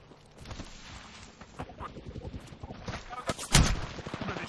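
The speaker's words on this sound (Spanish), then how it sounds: "me están disparando" A rapid burst of gunfire aimed at the player in Apex Legends, with quick overlapping shots growing louder toward the end, while a voice talks over it.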